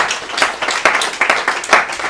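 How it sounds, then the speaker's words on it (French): A church congregation clapping at a service, a dense run of quick, fairly loud claps throughout with no talking over it. "Applaudissez Jésus"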